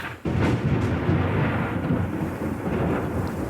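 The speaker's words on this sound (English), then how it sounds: "Did you guys hear that thunder?" Thunder rolls continuously outdoors, a loud low rumble that starts abruptly after a brief quiet moment and sustains steadily for several seconds with no voices.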